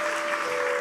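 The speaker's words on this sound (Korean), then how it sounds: "격려 박수 해주시면 되게 좋을 것 같죠?" Brief burst of audience applause at a church Sunday evening service, a dense patter of clapping at moderate volume from a crowd.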